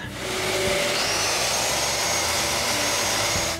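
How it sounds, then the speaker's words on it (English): A power sander with a soft interface pad smoothing a wooden sculpture, a steady close whirring drone with a gritty rasp, loud and unbroken throughout with no talking. "I managed to do a nice sanding job"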